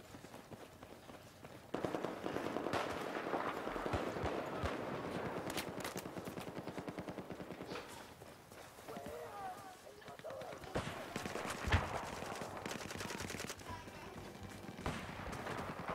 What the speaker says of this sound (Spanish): Este güey está disparando para acá.